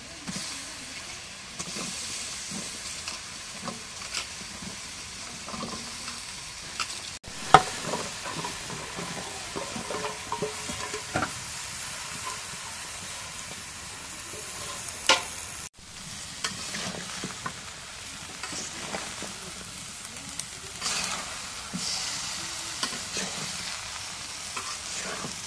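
Cauliflower and potatoes fry with spices in a pan, giving a steady, fairly loud sizzle, with scraping stir strokes and occasional clinks throughout, and no talk.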